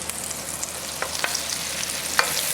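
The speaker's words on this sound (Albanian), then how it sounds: "Do ta lëm që të skuqet pak" Onions sizzle and fry softly in a pan, a steady crackling hiss broken by a few sharper pops and the occasional scrape of stirring, with no talk.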